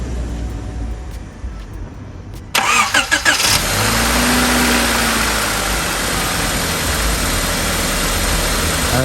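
Car engine starting up after an oil change with 4 quarts of fresh oil, cranking briefly then settling into a steady, close idle that runs on continuously.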